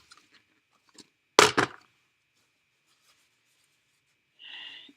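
A paper towel is rubbed quickly across a stamped paper card to lift Flirty Flamingo ink, making one short, dry scrubbing burst among faint taps in an otherwise quiet room.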